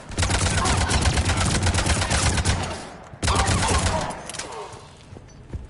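Dense rapid gunfire in the video game Mass Effect 3, a loud sustained burst that breaks off, resumes, and trails away into quieter shots with reverb.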